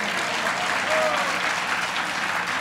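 A hall audience applauding at a talk, a thick, even roar of many hands clapping close together, steady throughout with a faint voice beneath.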